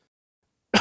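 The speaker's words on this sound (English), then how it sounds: "Sorry, just coughed." A single short cough bursts out at the very end after near silence, close and fairly loud.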